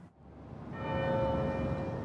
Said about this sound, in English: as the church bell started ringing.